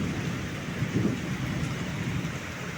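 Rain falls steadily during a windy storm with a low rumble of thunder swelling midway, moderately loud and continuous with no voices.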